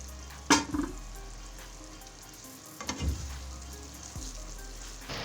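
Green chillies cook with spices in a pan, giving a steady low sizzle with a couple of sharp clinks and stirring scrapes, close and moderately quiet, no talking.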